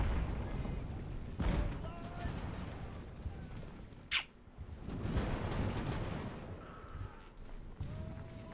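Age-of-sail naval artillery in Ultimate Admiral: Age of Sail booms in scattered distant volleys over a low battle rumble, with one sharp crack standing out midway and a voice speaking in between.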